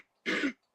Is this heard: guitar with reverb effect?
no